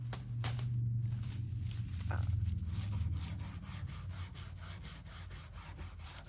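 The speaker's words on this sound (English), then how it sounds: "So just come back and scrub, figure out whichever brush is working better for you." A bristle brush scrubs back and forth over transfer foil in steady rasping strokes, close and fairly loud, with no talk over it.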